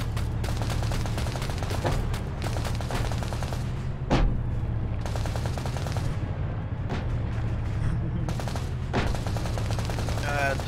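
Rapid gunfire and heavy grenade machine gun rounds echo through an Arma 3 battle, with repeated bursts and sharp impacts over a constant low rumble of vehicle engine noise.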